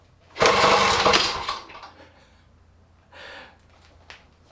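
A 1977 Kawasaki rotary-valve mini dirt bike with the choke on and no muffler baffle is kicked over: a loud rushing, sputtering burst of about a second that fades, then a shorter, softer puff and a tiny click.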